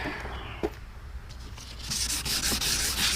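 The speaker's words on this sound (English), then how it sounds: "rub it with the sandpaper" Sandpaper rubs Honda ATV plastic wetted with Simple Green in steady close back-and-forth strokes, growing louder and more rapid in the second half.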